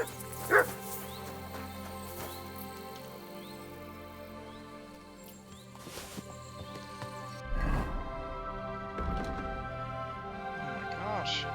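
A dog in the medieval video game Kingdom Come: Deliverance II barks and yips a few times over a low musical and ambient game backdrop, with quieter whimpers between the louder barks.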